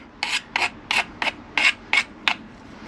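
Seven short rasping file strokes take the sharp edges off a cut bicycle fork steerer tube on an ADO Beast 20F, evenly spaced and close, with no talking.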